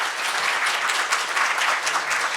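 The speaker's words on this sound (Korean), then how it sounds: "긴 시간 우리 멋진 건배사도 해주신 김종혁 교수님 포함해서 여러분들께 감사의 말씀 좀 박수 좀 보내드리면 되겠습니다." Audience at a senior-care symposium applauding steadily, a dense, even wash of many hands clapping throughout, close and fairly loud with no pauses.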